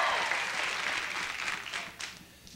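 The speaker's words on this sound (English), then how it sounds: "you must have started the applause for a perfect bid" Studio audience applause on a TV game show for a perfect bid, loud at first then gradually thinning and fading out.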